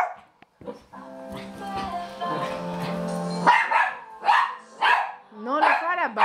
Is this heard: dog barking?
yes